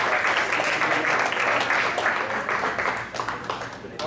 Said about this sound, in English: How about a round of applause for them again?